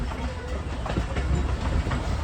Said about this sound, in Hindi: ट्रेन हमारी चक पिराना रेलवे स्टेशन पर